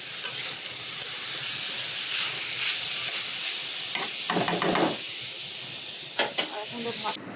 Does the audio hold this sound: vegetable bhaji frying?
yes